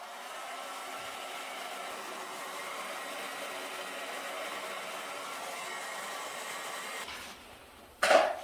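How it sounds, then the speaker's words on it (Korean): A hair dryer blows hot air to dry a coat of topcoat paint during architectural painting practice, a steady broadband whoosh running for about seven seconds before fading, followed by a brief louder burst near the end. "요것도 드라이기 뜨거운 바람으로 말려주셔야 돼요."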